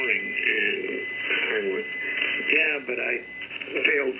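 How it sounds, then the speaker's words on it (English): Shortwave radio reception on an Elecraft K3 receiver, voices through a band-limited, tinny channel, with a constant hiss and occasional crackling static crashes underneath. "you'll hear the occasional static crash and hash in the background"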